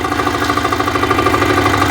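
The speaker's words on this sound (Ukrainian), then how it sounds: "І ось що таке дизель." A diesel walk-behind tractor engine runs steadily close by, a loud continuous knocking idle with a regular rapid pulse and no voices.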